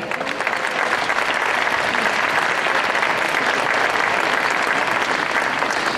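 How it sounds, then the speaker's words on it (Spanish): A large audience applauds at an international folk music and dance festival, with loud, sustained, even clapping from many hands and no speech over it. "pido este primer aplauso para la excelentísima Diputación Provincial de Jaén"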